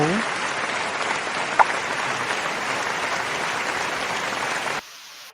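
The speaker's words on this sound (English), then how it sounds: "They've been clapping it up for you" Audience applause at a live talk-show taping, a steady dense wash of clapping from a crowd that holds evenly and then cuts off abruptly near the end, with no voices over it.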